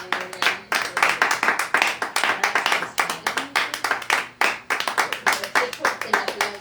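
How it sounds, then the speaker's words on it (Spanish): A church congregation claps in a quick, steady rhythm during worship, the beats loud and close, with voices speaking or singing along over the clapping. "fuerte el aplauso, gracias a Dios."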